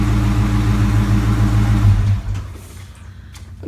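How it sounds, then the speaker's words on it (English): A 2010 Dodge Challenger idles loud and deep with a rumbling low throb, then the engine is switched off and the sound drops away to near quiet. "since this car is so loud, let me go ahead and turn it off"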